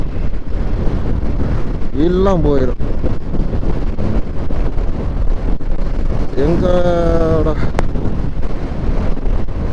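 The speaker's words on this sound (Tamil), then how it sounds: "காற்று விறுவிறுன்னு அடிக்குதுங்க பயங்கரமாக காற்று விறுவிறுன்னு அடிக்குது" Strong wind buffets the microphone with a constant loud roar throughout, while someone speaks briefly over it in two short bursts.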